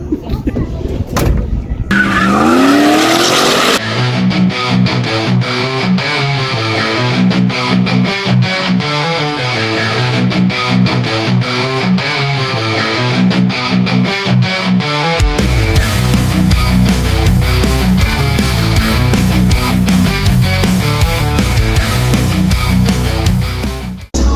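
Loud engine roar from a nitrous-fed drag racing car at Santa Pod, with one harsh, steady tone building and shifting, then a rougher, heavier surge over the second half, dense and continuous throughout.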